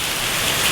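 Heavy rain pours down steadily during a drive, a dense, loud, unbroken hiss of drops with no voices.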